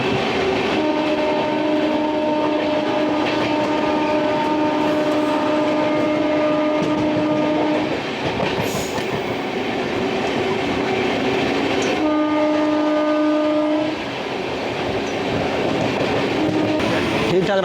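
Amrit Bharat Express passing through Tundla Junction at about 70 km/h: a steady rail roar with a long sustained horn blast, a short break, then a second horn blast, heard from on board throughout.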